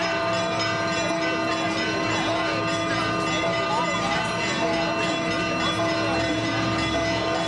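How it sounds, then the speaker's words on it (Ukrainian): Church bells ring steadily with sustained, overlapping tones near a Ukrainian folk festival in Lutsk, heard continuously under a busy outdoor background. "В церкві дзвони б'ють,"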